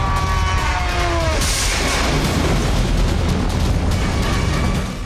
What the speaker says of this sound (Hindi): कीव में जोरदार धमाका हुआ। यह रूस की किंजल मिसाइल थी।